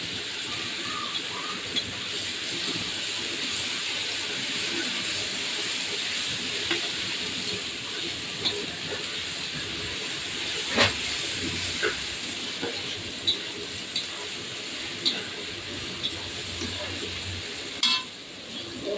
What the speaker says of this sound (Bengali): ওপরে যেগুলো আছে সেগুলো দিয়ে আমি একটুখানি ভেজে নেবো